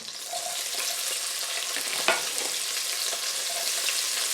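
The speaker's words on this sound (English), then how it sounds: "back in here, I am going to add my sliced onion" Sliced onion frying in a Dutch oven just after browning pork chops, a steady close sizzle with light stirring scrapes and one brief clank near the middle.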